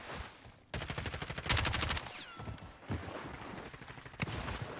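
Rifle fire from an enemy sniper in Call of Duty: Modern Warfare, heard as several sharp, close gunshot bursts separated by short gaps, mixed with other game noise.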